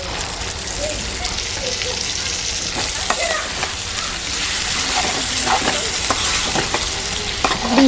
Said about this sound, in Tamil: ஆல்ரெடி மசாலா பேஸ்ட் அதை வந்து இதில் நம்ம சேர்த்துக்க போகிறோம்